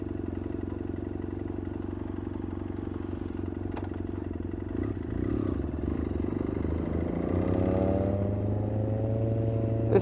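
A BMW F800 motorcycle engine cranks and catches nearby, settling into a steady low idle with a faint clatter, and no talk is heard.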